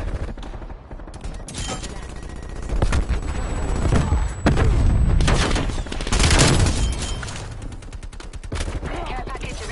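A PPSh submachine gun fires in a Call of Duty video game, with rapid, loud, close bursts of automatic fire that keep coming in waves, along with booming impacts and brief game announcer voice lines.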